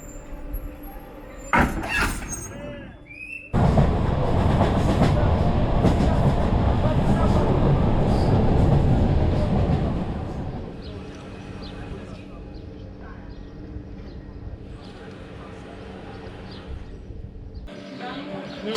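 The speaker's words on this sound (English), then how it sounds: "We just need the locomotive coming over there." A locomotive coupling onto a passenger train at a rural station in Transylvania, Romania: a sharp metallic clank, then a loud sustained engine rumble that fades to a softer idle, with people talking nearby.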